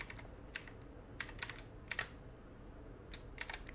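Light tapping on a computer keyboard while Python code is entered, scattered clusters of soft clicks with pauses between them, faint and close, no voices.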